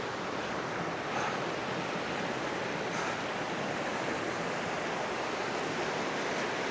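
Steady broadband rush of a waterfall on the path up toward Alcock Tarn in the Lake District, continuous and fairly loud with no voices.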